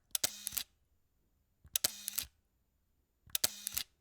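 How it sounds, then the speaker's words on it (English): A Leica M9 camera's shutter curtain fires three times at even intervals, each a soft, close mechanical clack with a brief whir, set against near silence. "It's a lot less cha-chink with like a sound of that like shutter curtain being pulled across."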